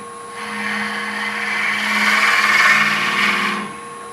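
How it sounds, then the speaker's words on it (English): Steady whirring drone of a wood lathe turning a candy dish, with a gouge cutting the spinning wood, building and easing over several seconds with a continuous hiss and hum and no talking. "I'm kind of starting to drill a hole with the tool right there"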